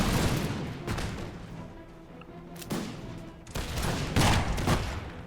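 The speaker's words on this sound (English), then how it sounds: "Good volleys being delivered by the Royal Regiment." Musket volleys and cannon fire in the game Empire, an American Revolution battle with the Royal Regiment firing by ranks: dense crackling rifle volleys and booming rolls arriving in bursts, loud and continuous.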